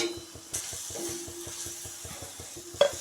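Crushed spice paste with salt and turmeric sautéing in a pan for potato bhaji, a soft sizzle under a steady series of spatula taps and stirs, quiet and close.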